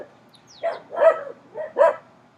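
A dog barks four times in quick succession, loud and close, in two pairs with brief pauses and no talking.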